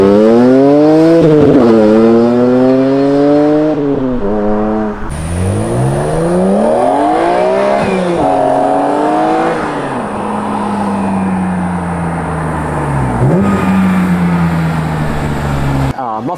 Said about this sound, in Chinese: 但是就没有了它 M3 那种很 metallic 的那种 raspy 的声音